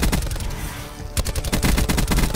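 Rapid bursts of automatic gunfire from Call of Duty: Black Ops 4, loud and close, pausing briefly before resuming in a dense stuttering volley.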